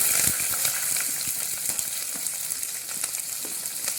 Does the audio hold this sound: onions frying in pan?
yes